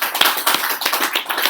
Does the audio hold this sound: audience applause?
yes